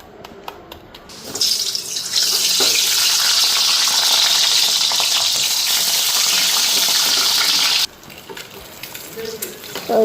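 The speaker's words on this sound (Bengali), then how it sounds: "তো ওইদিকে দেখো ডিমগুলি ফ্রাই হয়ে গেছে" Boiled eggs fry in hot oil in a kadai, a loud, steady hiss and crackle that starts suddenly, holds for several seconds, then drops away, with faint clatter around it.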